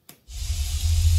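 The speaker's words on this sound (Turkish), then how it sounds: "Şöyle yağmur sesi." A steady, dense hiss of falling rain starts after a brief click and continues evenly, close and fairly loud.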